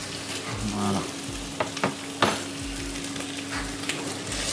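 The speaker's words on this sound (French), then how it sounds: "on va bien faire caraméliser nos oignons" Steady, close sizzling of onions caramelizing in a saucepan, with a few sharp clicks and scrapes of stirring throughout.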